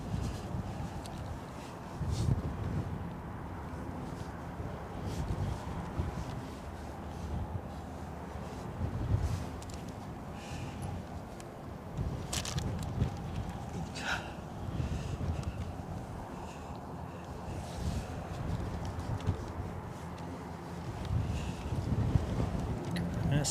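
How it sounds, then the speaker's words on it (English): Strong storm wind buffets a microphone at an airport during Storm Darragh, a continuous roaring rumble with gusty low-end surges and occasional sharper bursts, a voice speaking faintly in places. "It seems to pick up in wind once the aircraft are down on the tarmac"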